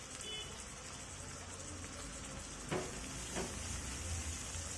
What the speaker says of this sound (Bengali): এখন আমি এগুলোকে ভালোভাবে কষিয়ে নিব যতক্ষণ পর্যন্ত না পেঁয়াজ আদা রসুনের গন্ধটা দূর হয়ে যায়।